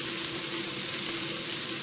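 Spicy cauliflower sizzling in a hot pan, a steady close crackle and hiss with no break and no talk.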